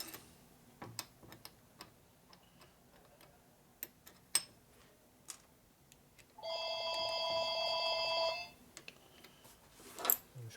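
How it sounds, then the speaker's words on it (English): A telephone rings in a motorcycle workshop during a 1970 Harley-Davidson Sportster XLCH ironhead chopper build, one steady two-second electronic ring fairly close, amid scattered clanks and ticks of tools. "of course the phone's ringing, so they want me"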